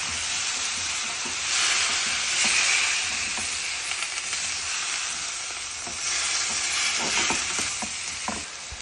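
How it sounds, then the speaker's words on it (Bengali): Bitter gourd and potato sauté in a hot pan with a little added water, sizzling and hissing close by while a utensil stirs and scrapes, the sizzle swelling and easing in waves; no one speaks. "দিয়ে করলার আলুটাকে ভালোভাবে কষিয়ে নেব।"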